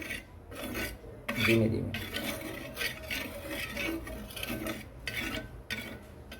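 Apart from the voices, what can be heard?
spreading oil across a griddle pan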